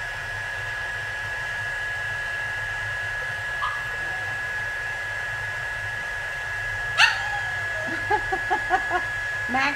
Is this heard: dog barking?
yes